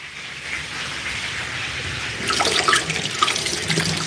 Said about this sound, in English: I'm gonna wash my tomatoes.